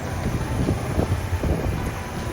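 Wind blowing across a sailing boat on a sunny sea near Garrucha, a steady rushing buffet against the microphone with low rumbling gusts, continuous and fairly loud, with no talk.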